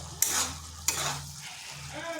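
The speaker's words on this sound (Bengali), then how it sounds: "জলটা যাতে শুকনো হয়ে যায় তা একটু নেড়ে চেড়ে নিচ্ছি" Cabbage stirred in a pan to dry off its water: a soft, steady sizzle with two sharp scrapes of a spatula against the pan and another at the end, close and moderately quiet.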